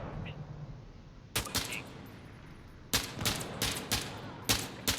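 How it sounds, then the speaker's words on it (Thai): Gunfire in the shooter video game Insurgency: Sandstorm: several loud, sharp bursts of rapid shots over a steady background hiss, with short gaps between volleys. "ยิงอยู่ไหนวะ"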